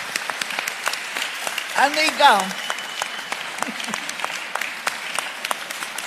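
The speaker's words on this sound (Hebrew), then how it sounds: "נראה לי שכולנו עכשיו רוצים להצדיע לגבורה שלך ולכולם על ידי הרבה מחיאות כפיים" Audience applause at a Holocaust memorial ceremony held at a design terminal in Bat Yam, a steady wash of many hands clapping at moderate distance, with a brief spoken voice rising over it partway through.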